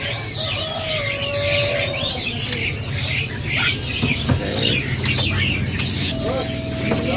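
Asian pied starlings (jalak suren) at a bird seller's stock, giving repeated chattering, clucking calls with whistled notes, in a busy setting with people talking in the background.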